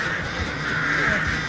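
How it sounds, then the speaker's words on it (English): Crows caw in a video game, a dense cluster of harsh calls layered over one another and holding at steady, fairly loud volume with no voices over them. "Her stupid birds are all over us."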